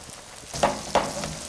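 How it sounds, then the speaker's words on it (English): Hot olive oil sizzles steadily around a wooden spoon in the pan, with two brief sharp crackling bursts as it is stirred. "When the base of the wooden spoon sizzles, when it touches the olive oil, it's ready"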